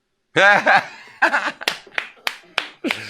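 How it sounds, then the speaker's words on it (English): A lone person claps several sharp, separate times in an uneven rhythm, close and fairly loud, following a burst of laughter at the start. "I'm still the only one clapping"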